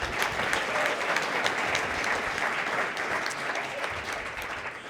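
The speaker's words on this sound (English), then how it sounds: "Let's give them one more round of applause." Audience applause for guests at a State of the Community luncheon at the Public House in Hastings, Minnesota: dense, steady clapping from a sizable room, sustained evenly for about five seconds with no talk.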